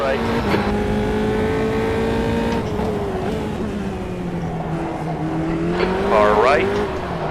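Race cars in the sim racing game Automobilista 2 during a career-mode race, a loud sustained engine drone with shifting pitch and gear changes, tire squeal near the end, and a voice talking over it.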